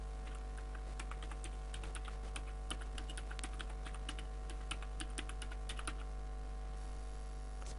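Fingers tap out a website title on a computer keyboard, a steady run of light irregular key clicks close up over a constant low electrical hum, with no talking.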